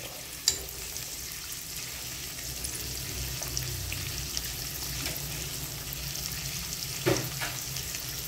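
Meat and tofu stir-frying in a pan, with a steady close sizzle, occasional stirring clatters and a louder scrape near the end, no talk.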